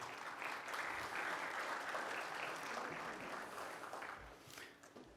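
An audience at a keynote day claps loudly to welcome a speaker to the podium, the dense applause holding steady for about four seconds before thinning out and fading near the end.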